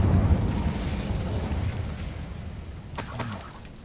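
Incendio fire spell cast in the Hogwarts Legacy video game, a fiery burst that swells after a low rumble, with a sharp crackling flare near the end that fades out.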